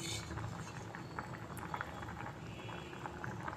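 Chana dal with grated fresh coconut bubbling in a pot on the stove, a steady close simmering patter with soft pops that runs throughout without pause.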